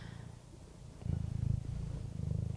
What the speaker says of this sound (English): He's purring about it.